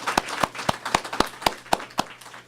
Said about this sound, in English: let's round of applause.